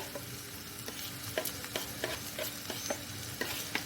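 Finely chopped medium onion fries in a pan for a chicken kachori filling, a soft low sizzle broken by repeated light scraping stirs at an uneven rhythm.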